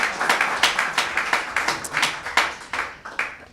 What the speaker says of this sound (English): So give Alex a round of applause there as well.